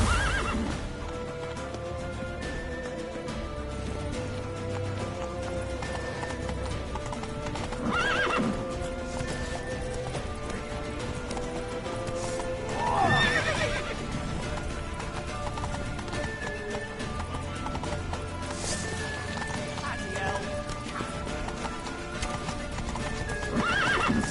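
Hooves clip-clop in a rapid galloping rhythm throughout, with a horse neighing now and then over a steady background rumble, in the video game The Witcher 3.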